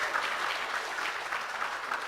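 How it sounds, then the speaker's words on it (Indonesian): An audience at a launch event claps in a steady, even wash of applause, moderately loud and continuous throughout with no talk over it. "biar lebih semangat bagaimana kalau kita berikan tepuk tangan terlebih dahulu untuk acara kita di kesempatan pagi hari ini"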